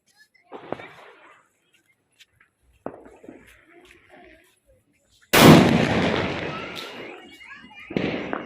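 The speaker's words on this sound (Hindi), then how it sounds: "बम धमाकों की ये तेज़ आवाज़, ये उनकी खुशी को ही प्रकट करती है" Diwali firecrackers go off at night. After a few scattered, distant pops, a loud, sharp blast hits, followed by a long, crackling rumble, and one more bang comes near the end.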